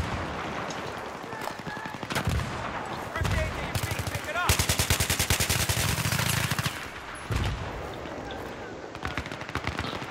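Automatic AK-74M rifle fire in the video game Battlefield 3 on the Canals map, a team deathmatch: repeated loud bursts of rapid shots, including one long sustained stream, with a voice talking over parts of it.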